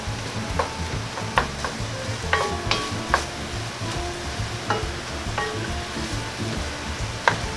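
Spaghetti meat sauce with wine sizzles in a pan as it is stirred, with a close, steady frying hiss and repeated sharp clicks and scrapes of the utensil against the pan.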